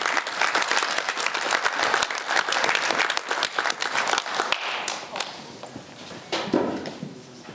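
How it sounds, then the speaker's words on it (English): Audience applause welcoming a panel onto the stage at a conference session, a dense wash of clapping that swells and then thins out into scattered claps toward the end. "Round of applause, everyone"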